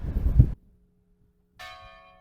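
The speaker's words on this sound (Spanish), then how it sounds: "¿Usted toca siempre las campanas aquí?" A heavy church bell strikes once, its deep tone fading out, then after a pause a brighter church bell rings and hums on, resonant and fairly close.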